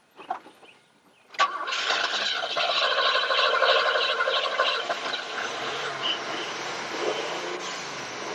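A car engine cranks briefly, catches and settles into a loud, steady rough idle, close by and running alone without talk.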